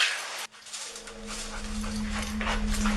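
A police K-9 dog whimpers and pants, close and continuous over a steady low hum, after a brief noisy start.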